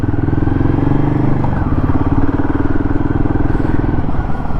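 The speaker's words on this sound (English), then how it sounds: "let's see how it maneuvers in this at the slow speeds" Royal Enfield Himalayan 452 motorcycle engine thumping steadily at slow riding speed, a loud, close, continuous low rumble with a throbbing rhythm and no talk.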